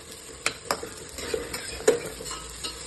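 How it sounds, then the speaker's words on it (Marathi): Rice being stir-fried in oil and a little ghee, with a spatula scraping and tossing it in quick irregular strokes, sharp clicks against the pan over a faint sizzle, close and with no talk. "आता ते तेलात आणि थोडंसं तूप टाकून परतवून घेतो"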